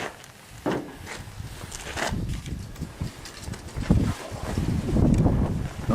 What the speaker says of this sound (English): now that the wind has really come up good